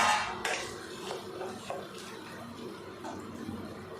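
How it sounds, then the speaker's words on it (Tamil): Cooked rice being stirred into tomato masala in a pan: soft scraping and clinking of a spoon against the pan, several light metallic knocks spread over a few seconds, with faint background noise. "இப்போ அடுப்பை ஆஃப் பண்ணிவிட்டு நம்ம வேக வச்ச சாதத்தை சேர்த்துட்டு நல்லா கலந்து விட்டுடலாம்"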